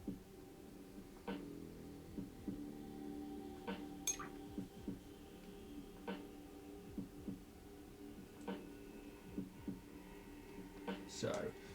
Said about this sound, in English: It's like just that heartbeat sound effect.